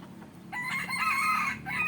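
A wild junglefowl rooster crows once, a loud, close cock-a-doodle-doo rising and holding over a couple of seconds.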